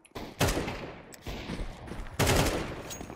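Rapid gunfire from the video game Counter-Strike 2 comes in several loud, close bursts of automatic shots, with brief gaps and echoing tails between volleys.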